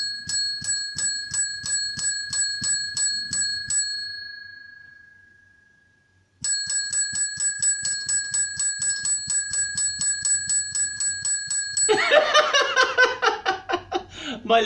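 Ring-for-service bell struck again and again in a quick steady rhythm, bright repeated dings close by, a short pause midway, then laughter joining the ringing at the end.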